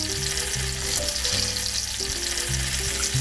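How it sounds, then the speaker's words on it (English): Pasta frying in a pan of olive oil and butter, a steady close sizzle with occasional stirring clinks and scrapes, no talk. "So now we're going to fry these up."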